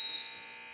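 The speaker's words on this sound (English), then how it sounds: "Down to Gilray, who got the shot off, but it was just after the buzzer" Game-ending buzzer at a box lacrosse game between the Oshawa Outlaws and St Catharines Shockwave, a steady high electronic tone sounding loud for about a fifth of a second before cutting off into arena noise.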